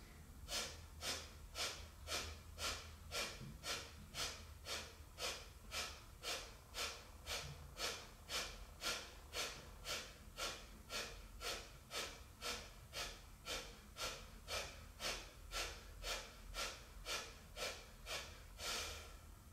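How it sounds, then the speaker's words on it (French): Kapalabhati yoga breathing, about thirty rapid, forceful nasal exhalations in a steady even rhythm, each a short sharp puff, close and fairly quiet, with no talk. "Kapalabhati 36 fois."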